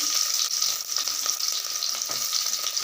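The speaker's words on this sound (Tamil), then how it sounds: "வெட்டி வச்ச சின்ன வெங்காயத்தை போட்டுக்கிறேன்" Chopped small onions hit hot oil with fenugreek seeds for a fish curry. A loud, close, continuous sizzle crackles with faint stirring taps mixed in, and no one speaks.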